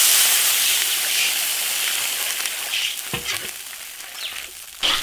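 Water goes into a hot iron wok of frying ginger, garlic and green and red peppers, giving a loud, bright hissing sizzle that gradually fades, followed by a few clinks and scrapes near the end.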